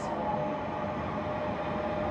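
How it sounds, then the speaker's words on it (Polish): A double-decker Wiedenka passenger train departs Warszawa Zachodnia station bound for Skierniewice, giving a steady, continuous rail rumble and hum throughout with no speech. "Punktualnie odjeżdża pociąg piątrowy Wiedenka do Skierniewic"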